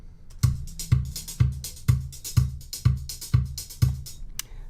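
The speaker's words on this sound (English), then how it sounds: "So then the drums sounds like this." A steady MIDI drum kit beat with a punchy kick and snare on a regular pulse, cymbals ticking above, played alone at moderate volume.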